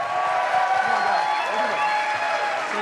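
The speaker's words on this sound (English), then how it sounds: "Let's give them one more big round of applause." Applause and cheering from a conference audience fill the whole stretch at steady, fairly loud volume, with a few voices calling out over the clapping.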